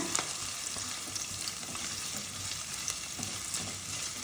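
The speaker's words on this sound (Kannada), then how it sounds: "ಇದನ್ನು ಚೆನ್ನಾಗಿ 1 ನಿಮಿಷ ಫ್ರೈ ಮಾಡ್ಕೊಳ್ಳೋಣ" Onions fry in a little oil in a pan, giving a dense, even sizzle up close with faint stirring scrapes and occasional soft pops throughout.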